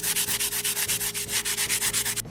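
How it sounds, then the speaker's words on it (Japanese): Sandpaper rasps in steady, even back-and-forth strokes, about a dozen of them, close and loud, over the surface of large 3D-printed parts for a model of the battleship Yamato. "結局のところね、ひたすら削ってまいります。"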